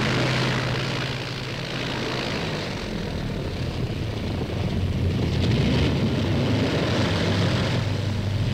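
A Vickers Wellington propeller bomber flying on a test run, a steady, loud drone of piston engines and propellers that holds throughout with no voices.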